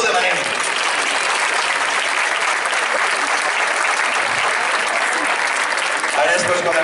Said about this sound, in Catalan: Va, aplaudim fort i així ens pareixerà que ho demanem.